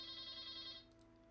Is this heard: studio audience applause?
no